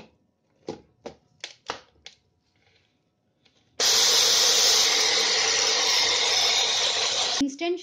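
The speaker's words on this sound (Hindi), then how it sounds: "और इसको हम ग्राइंड कर लेंगे दोबारा।" A kitchen grinder whirs loudly as it grinds sugar and cardamom seeds into shikanji masala powder, starting abruptly after a few soft rustles and clicks and running as a steady high-pitched roar for about four seconds before cutting off.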